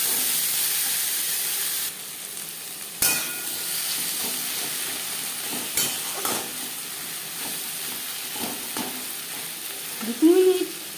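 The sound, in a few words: eggplant frying in fish oil with onion and spices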